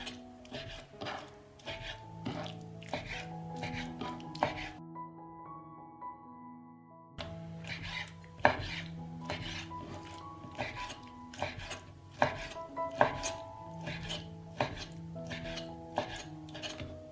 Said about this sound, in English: Now I'm going to chop the peppers